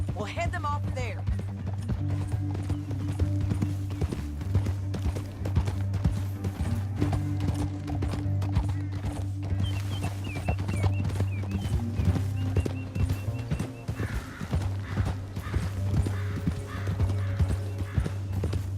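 Steady clip-clop of horse hooves plods along beneath a constant low rumble, with a voice speaking briefly over the rhythm, in the video game Red Dead Redemption 2.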